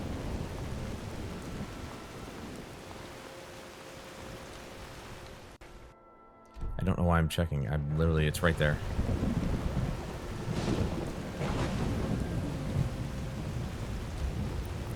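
Steady rain hisses across the Skyrim landscape, a dense wash of falling water broken by a brief hush before rumbling weather returns, with someone talking over it.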